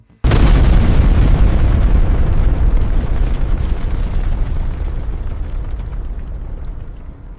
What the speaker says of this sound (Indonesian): Ledakan reaktor 1 ditangkap oleh kamera televisi dan disiarkan langsung ke seluruh dunia